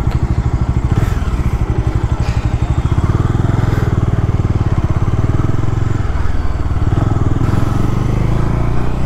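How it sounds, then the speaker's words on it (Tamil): A Bajaj Dominar 400 motorcycle engine runs steadily and loud up close, its rapid thumping exhaust pulse continuous for the whole stretch with no talk over it. "அவ்வளோ கைஸ் வண்டி ஸ்டார்ட் பண்ணியாச்சு."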